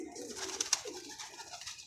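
Pigeons coo softly in a quick, faint murmur against quiet surroundings, with a couple of sharp brief accents partway through.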